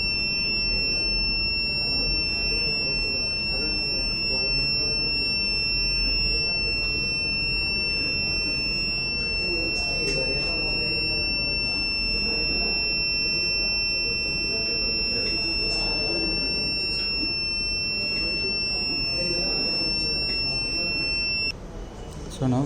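Motion-alert buzzer on a solar crop-protection fence sounds as a steady, continuous two-tone electronic whine running almost the whole time, then cutting off near the end, with someone talking over it throughout.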